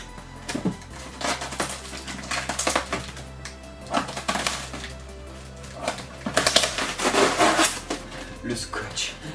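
Tape being handled and pulled on a cardboard shipping box while unboxing a figurine ordered from Wish, heard as irregular close clicks, crackles and rustles, with a person talking at times.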